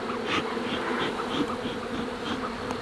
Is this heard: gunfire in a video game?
no